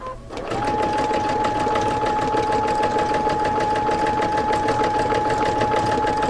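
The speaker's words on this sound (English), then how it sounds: "with traditional free motion embroidery, you're really going to sew fast and move the fabric, move the hoop slow" A sewing machine running fast and steadily for free motion embroidery, fabric in a hoop moved slowly under the needle; a close, continuous mechanical whir with a sustained hum, alone without talk.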